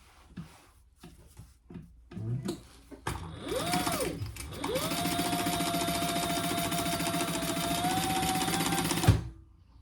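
A home sewing machine basting the top of a fabric travel bag, with a long steady whirring run and a brief pitch rise and fall as it starts, loud and close, after some quiet handling sounds.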